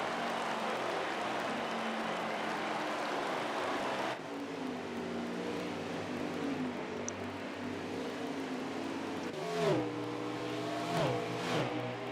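Race cars from an ARCS event in New Hampshire accelerating out of a corner onto the straightaway, a steady loud engine roar that shifts after a few seconds, with rising revving passes near the end.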